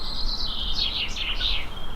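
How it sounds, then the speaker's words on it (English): Birdsong: a bird sings a bright, warbling phrase of rising and falling notes over a steady background rush of flowing water, fairly clear and close. "Do we tune into the bird song?"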